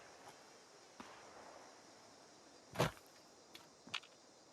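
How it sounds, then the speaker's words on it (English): Gunfire in Fallout 76, a few sparse shots at moderate distance, one louder crack followed by two fainter ones over a quiet game background. "I hear gunshots."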